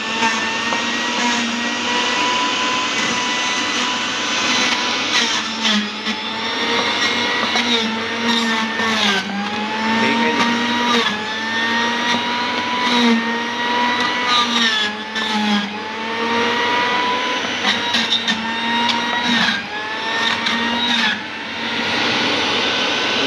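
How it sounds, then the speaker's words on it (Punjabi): An electric juicer machine whirs continuously while pressing pomelo and carrots into juice at home, a loud steady high-pitched motor drone with slight pitch wobbles under load. "ਲਓ ਜੀ ਆਪਣਾ ਜੂਸ ਵੀ ਤਿਆਰ ਤੇ ਮਸ਼ੀਨ ਕਰਤੀ ਆਪਾਂ ਬੰਦ"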